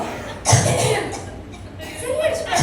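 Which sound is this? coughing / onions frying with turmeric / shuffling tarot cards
coughing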